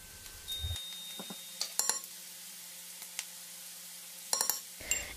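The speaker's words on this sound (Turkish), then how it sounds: "Onu da ekleyip soğanlarla birlikte etimizi devam kavuralım." Meat and coarsely chopped onion frying in butter in a pan for maklube give a faint, steady sizzle, broken by a few light metallic clinks and scrapes of a stirring utensil, with no talking.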